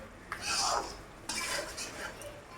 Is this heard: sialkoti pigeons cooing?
no